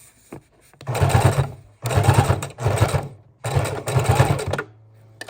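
A sewing machine runs its widest zigzag stitch down the center line of a miniature junk journal made from a playing card box, in three steady bursts of rapid close whirring with short pauses between.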